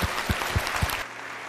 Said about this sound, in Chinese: 我觉得我们集体应该先给你一次掌声